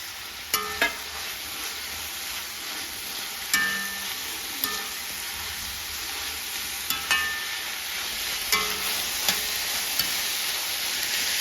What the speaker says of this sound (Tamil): நல்லா வதங்கிடுது.